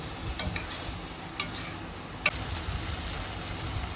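Sliced onion and ground ginger, salted, frying in a pan and stirred with a utensil, giving a soft sizzle with a few sharp scrapes against the pan, close and without talk.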